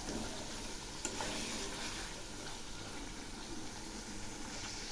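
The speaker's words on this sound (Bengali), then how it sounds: "এবার আমি এগুলি একটু নেড়ে দিচ্ছি।" Ground spices with a splash of water sizzle and are stirred in hot oil in a pan for a vegetarian pointed-gourd and yogurt curry, a steady dense frying hiss with scraping stir sounds throughout.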